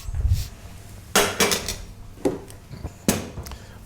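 A metal spoon scrapes and clanks in a pan while mixing stuffing made with onions, a few sharp irregular knocks and scrapes, close and fairly loud.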